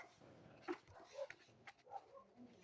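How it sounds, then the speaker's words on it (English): Dogs bark and yip indoors in a few short, scattered bursts of moderate loudness, with some faint whimpering between them and no talking. "And if you hear the dogs barking,"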